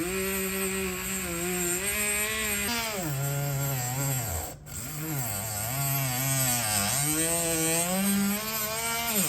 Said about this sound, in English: We're gonna give the Dremel one last chance. Hopefully it can at least cut through some fabric.